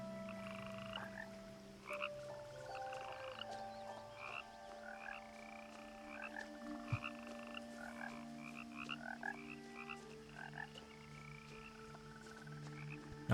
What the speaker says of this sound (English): Where are the froggies? I hear them.